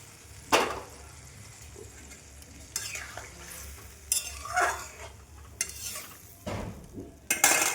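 Hot water poured into a pan of frying fish curry, the oil hissing and sizzling in sudden loud bursts amid stirring and scraping, close up with no talking.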